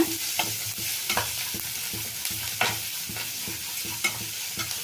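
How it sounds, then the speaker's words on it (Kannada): Onions fry in a pan for pumpkin palya, a steady close sizzle with regular scraping strokes of a stirring spoon against the pan throughout. "ಈರುಳ್ಳಿ ಸ್ವಲ್ಪ ಕಂದು ಬಣ್ಣ ಬರಲಿ, ಅಲ್ಲಿವರೆಗೂ ಹುರಿಬೇಕು."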